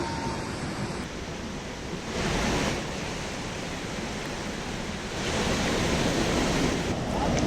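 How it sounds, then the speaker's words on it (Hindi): The flooded Alaknanda river rushes fast and swollen in a steady, heavy roar of water. No voices break the continuous wash of noise, which surges slightly louder partway through. "इन तस्वीरों में भी आप देख सकते हैं अलकनंदा का विकराल रूप। रफ्तार के साथ घाटों तक नदी का पानी पहुंच गया है।"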